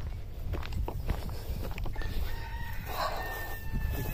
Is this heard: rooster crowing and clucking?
yes